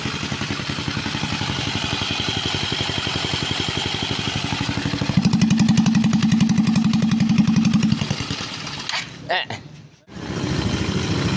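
A motorcycle engine runs steadily and close by, with a rougher, louder stretch midway and brief clattering knocks near the end before the steady running resumes.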